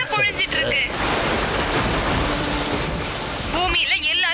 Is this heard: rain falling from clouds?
yes